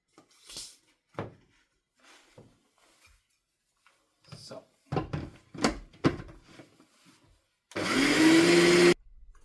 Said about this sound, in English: So I mixed it for about 10 seconds, not more, just get a feel for how powerful and effective your mixer is